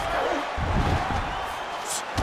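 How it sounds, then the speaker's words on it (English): A crowd roars and cheers throughout a mixed-martial-arts bout in the video game UFC 5, a dense wash of arena noise with a commentator talking over it. "crowd absolutely loving it as the fighters, however compromised, make their way back to the feet"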